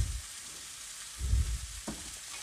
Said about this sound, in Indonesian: ini mie kuningnya sudah kita aduk rata